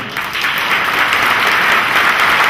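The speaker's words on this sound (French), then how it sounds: "on peut encore l'applaudir" At a French award ceremony, an audience applauds a young cyclocross champion of France with dense, even clapping that stays loud and continuous from start to finish.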